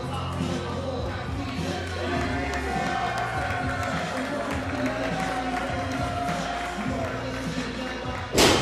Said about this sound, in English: And the crowd going crazy.